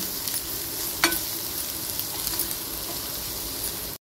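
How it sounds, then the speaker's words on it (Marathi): Masala with coriander powder and garam masala being stir-roasted in a pan for tomato bhaji: a continuous close hiss and sizzle with a single sharp utensil tap near the start, no talking. "ते सर्व मिक्स करून घेऊया। मसाला चांगला भाजून घ्यायचा।"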